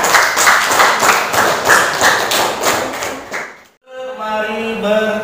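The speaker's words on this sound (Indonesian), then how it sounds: "Tepuk tangan." Classroom applause for a student, a few seconds of rhythmic group clapping, fairly loud and close, ending abruptly and followed by a brief tonal chime-like sound.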